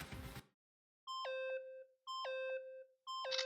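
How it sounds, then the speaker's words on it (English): An ominous chiming bell in the Danganronpa video game rings a clear two-note ding-dong pattern three times in a row, separated by brief silences, ringing out alone after a short burst of noise. "Does anyone else hear that ominous bell?"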